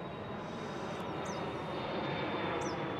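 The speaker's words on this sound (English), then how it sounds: "Wait for this plane to go by." A small fixed-wing airplane drones steadily as it passes overhead near a campsite with a rooftop tent, a continuous broadband engine roar that holds even throughout, with a couple of faint bird chirps on top.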